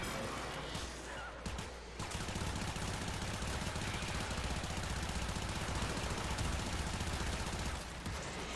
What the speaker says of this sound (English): My Soma's not good at all anyway, so I might as well blow the bullets, right?